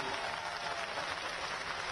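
A crowd at an election rally in Chanderi, Madhya Pradesh, claps steadily, a dense and even wash of applause that holds for a couple of seconds.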